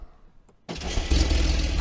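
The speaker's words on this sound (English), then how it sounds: "Let's do a cold start on this new engine." A new Porsche 911 Turbo S hybrid fires up from cold in a car park: a short quiet pause, then the engine catches instantly and settles into a loud, steady rumble that swells slightly.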